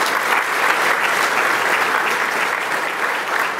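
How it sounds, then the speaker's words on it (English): Sustained applause from an awards-ceremony audience honouring Sir Peter Cosgrove at the Ethnic Business Awards, a dense, steady wash of clapping from a large crowd, even in loudness throughout with no speech over it. "how about another round of applause for Sir Peter Cosgrove?"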